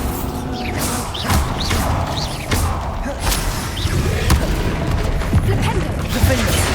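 Bombarda explosion spells in the Hogwarts Legacy video game go off as repeated sharp bursts and thuds amid busy combat noise, with a voice talking over parts of it.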